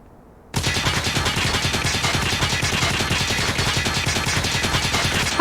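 Sustained rapid automatic fire from a UL736 light machine gun in Call of Duty Mobile, a loud, dense rattle of evenly spaced shots bursting in after a brief quiet moment and running unbroken to the end.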